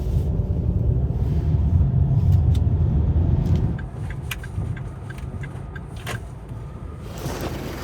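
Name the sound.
car driving to the mechanic shop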